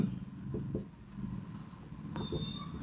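Pen scratching on paper while geometry notes are written, soft intermittent strokes close to the mic over a low background hum.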